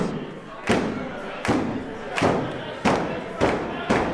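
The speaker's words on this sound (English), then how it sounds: "Crowd going berserk here, trying to get Kyle back into it." Crowd at a tag-team wrestling match roaring and stomping, with repeated heavy thuds and slams landing roughly every second over the loud, continuous cheering.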